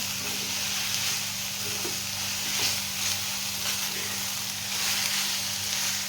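Okra seasoned with salt frying uncovered in an open pan over a medium flame, with a continuous close sizzle and steady hiss throughout.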